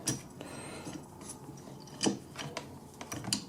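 Small metallic clicks and rattles from parts being handled while the carburetor comes off a Poulan 2150 chainsaw, a few sharp taps scattered over a quiet, close background.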